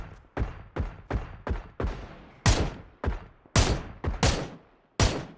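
Gunfire in a shooter video game: about a dozen sharp, loud shots fire in an uneven rhythm of single cracks and quick pairs, each ringing out briefly, with no talk over them.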